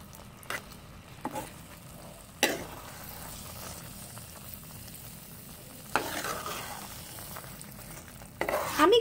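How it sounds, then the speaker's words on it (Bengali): Grated carrots for carrot halwa fry in a pan with a soft continuous sizzle, broken by several sharp scrapes and clatters as a spoon stirs them, close by. "এটা ভাজা ভাজা হয়ে আসুক"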